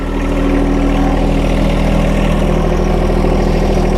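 A John Deere tractor engine idles steadily and close, a constant low diesel drone with a fine rhythmic throb that holds even for the whole stretch, with no talk over it.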